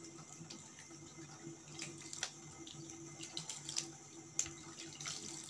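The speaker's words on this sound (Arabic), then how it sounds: "ودابا البنات غادي نشرب الكسكسو ديالي بالماء" Water trickles and splashes steadily into a container as it is poured onto Moroccan couscous in a home kitchen, quiet and close with occasional small drips and clinks.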